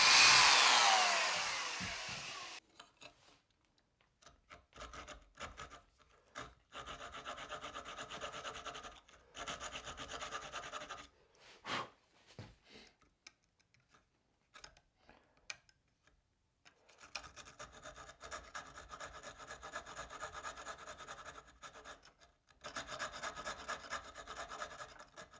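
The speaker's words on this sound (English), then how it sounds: "come in with a keyhole saw and widen out that mouth" A keyhole saw cuts wood to widen the mouth of a canary wood miter plane, heard as close rasping strokes in irregular bursts with brief pauses between them.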